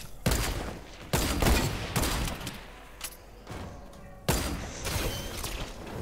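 Heavy sniper gunfire in the Fortnite video game, several loud booming shots in bursts with short pauses between, close and forceful.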